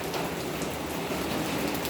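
Heavy rain from a storm pours steadily onto surfaces nearby, making a dense, even hiss with no talking.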